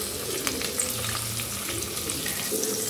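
Cabbage sautés in a hot pan with a steady close sizzle and occasional stirring scrapes, and no one speaks.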